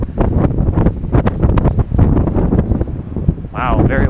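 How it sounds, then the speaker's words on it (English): Strong wind buffets a microphone outdoors, a loud, blustery rumble rising and falling in gusts throughout, with a brief faint voice near the end. "Wow, very windy here."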